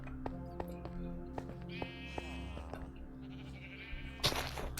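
Sheep bleat repeatedly in a game soundscape, wavering calls over a steady low musical drone, with a sharp brighter burst near the end.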